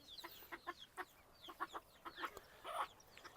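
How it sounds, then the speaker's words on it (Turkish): Ispenc chickens in their coop give a run of short, repeated clucks and soft calls, fairly close, with no talking. "İspenç tavuklarım var. İspenç tavuk kümeslerim var."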